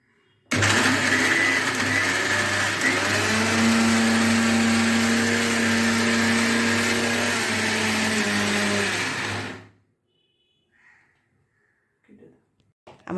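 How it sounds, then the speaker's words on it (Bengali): A mixer grinder whirs steadily for about nine seconds, blending white oil and other ingredients into a creamy homemade mayonnaise paste, its loud motor hum ending abruptly before quiet follows. "আমি এবার এগুলো মিক্সিতে বেটে নেব।"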